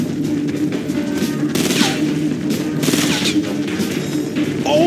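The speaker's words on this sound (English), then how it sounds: "they're shooting!" Rapid gunfire from a Fortnite match in which two armed players face 98 unarmed ones: dense, overlapping shots and bursts crackle continuously at loud volume across the game's busy soundscape.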